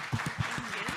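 A panel audience at a book event claps for the author speakers in a brief, steady burst of applause while a voice speaks briefly over it.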